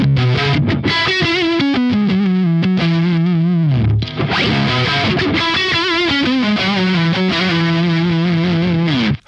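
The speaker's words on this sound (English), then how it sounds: "let's try the exact same settings but with the Strat. So, neck pickup." Fender Stratocaster on the neck pickup played through a REVV Tilt overdrive pedal, giving loud, continuous distorted electric guitar melody lines with sustained notes and brief pauses, and no talking.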